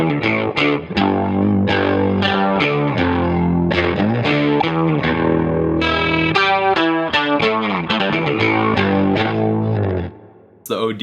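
An electric guitar run through an OD plugin preset plays a continuous overdriven riff of quick chords and single notes, loud and close, with shimmering modulation, ringing for about ten seconds before cutting off.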